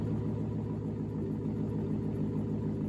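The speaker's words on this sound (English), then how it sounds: "Oh, now that it's idling, I'll give it some revs." A Chevrolet Silverado pickup idles steadily with a constant, even low rumble, close and uninterrupted throughout.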